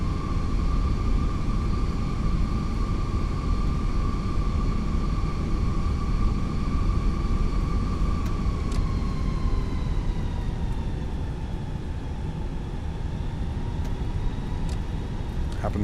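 A Fenix A320 airliner taxiing in Microsoft Flight Simulator on an Air Canada Toronto to Winnipeg flight: a steady, loud jet engine whine and hum that dips slightly in pitch partway through and continues throughout.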